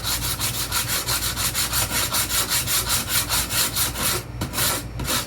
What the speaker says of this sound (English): we have to use still the sandpaper